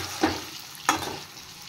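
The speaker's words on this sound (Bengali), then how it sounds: "পনিরগুলো হালকা আছে আমি ভেজে নিচ্ছি।" Paneer frying in a pan gives a continuous gentle sizzle, broken by two sharper stirring clatters from a spatula, close and with no talking.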